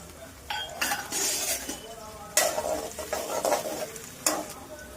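Garlic, onion, mustard seeds, fenugreek, dried chillies and curry leaves sautéing in generous oil for poondu milagu kuzhambu, a steady close sizzle under repeated stirring scrapes and light metallic clinks of a spoon against the pan.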